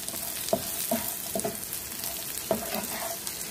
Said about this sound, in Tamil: இந்த கருவேப்பிலையை ஃப்ரை பண்ணிக்கலாம்